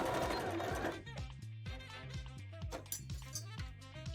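A sewing machine sews a zigzag stitch onto bra elastic, running in a fast steady rhythm of short needle strokes with brief pauses between runs, close and clear with no talking.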